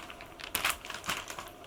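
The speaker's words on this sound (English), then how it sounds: "So it's also in a little plastic bag." A comic in a thin plastic bag crinkles and rustles as it is handled close up, in several quick bursts of crumpling with brief pauses between them and no speech.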